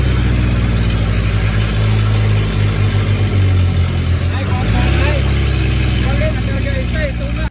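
Truck engine rumbling and straining loudly while towing another stuck truck with a cable, a deep continuous drone with shifts in pitch, under someone talking throughout.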